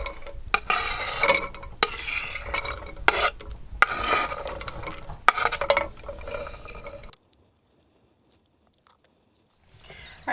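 Chopped vegetables for chicken noodle soup being scraped off a cutting board into a pot; close rasping scrapes and knocks in repeated strokes, followed by near silence.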